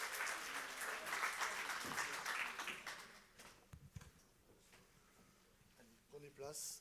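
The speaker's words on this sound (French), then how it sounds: "vous pouvez les applaudir" Applause from an audience at a round-table conference fills the first few seconds, then fades as scattered voices and movement continue underneath, with a brief louder burst at the end.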